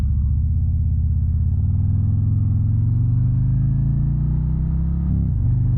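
A 2024 Harley-Davidson Road Glide V-twin rumbles steadily and loudly while riding, a deep continuous throb with a slight rise in pitch before a brief dip near the end.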